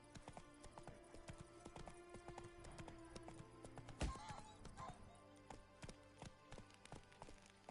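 Hooves of Roach, a horse in The Witcher 3, clip-clop at a steady galloping rhythm throughout, moderately loud with game music and a brief sharp impact partway through.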